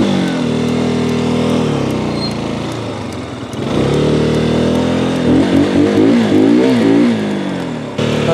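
A KTM RC 125 motorcycle engine revs up and down close by, loud buzzing with rising and falling pitch sweeps and a brief dip midway before climbing again.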